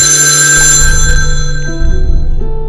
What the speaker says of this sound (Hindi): एक सुबह अनुज के घर उसकी नानी का कॉल आया।